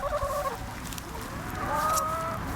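Backyard hens clucking and squawking near a compost pile while feeding on worms, a few close, loud calls with rising drawn-out clucks amid rustling.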